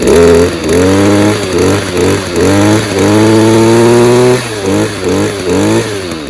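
Stihl KM94 RC combi two-stroke engine running just after starting, a close, loud buzzing idle broken by repeated revving bursts that rise and fall in pitch.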